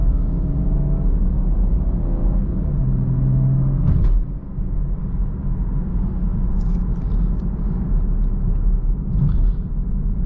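Engine of a 2019 Chevrolet Camaro 1LT V6 on a test drive, a steady low rumble and drone heard from inside the cabin, even and continuous with faint road noise.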